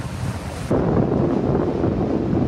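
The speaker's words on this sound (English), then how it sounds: "It's light wind right now." Light wind buffets the microphone aboard a 29er sailing dinghy on open water, a steady rough whoosh with water wash that grows louder after a sudden step partway through, with no talk.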